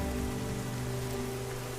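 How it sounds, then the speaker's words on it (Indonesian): Steady rain patters as a story sound effect, an even, continuous hiss of drops on a surface with a faint low hum beneath and no voices. "Tetapi hingga petang hujan tidak kunjung berhenti."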